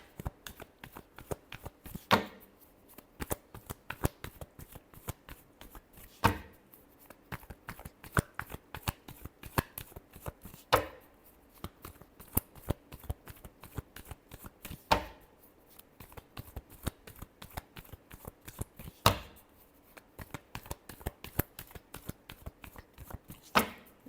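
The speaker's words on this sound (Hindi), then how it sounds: "last shuffle" Tarot cards are shuffled by hand in a long, quiet run of soft riffling slaps and taps, steady and rhythmic with a few louder snaps.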